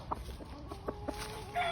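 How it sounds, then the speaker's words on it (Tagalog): A White Kelso gamefowl broodcock rooster at a game farm gives several short, close clucks in an irregular rhythm, with light farmyard background noise and no talking. "The broodcock."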